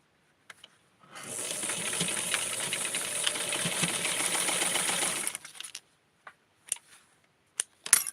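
A sewing machine stitches a small blouse for a 6.5-inch Tutti doll, running steadily and close for about four seconds, then a few scattered light clicks and taps of fabric handling follow.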